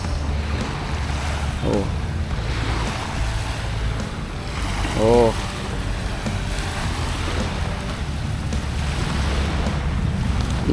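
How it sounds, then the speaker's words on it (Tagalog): Waves roll and crash on the Manila Bay shoreline at Dolomite Beach, a loud continuous wash with wind buffeting the microphone, and a person briefly exclaims partway through. "Yung mga kababayan natin nakakarinig ng hampas ng alon"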